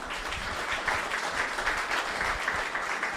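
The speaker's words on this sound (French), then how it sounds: "On applaudit cet enfant là derrière là." A church congregation claps for a child in a dense, steady round of applause that fills the room at an even level throughout.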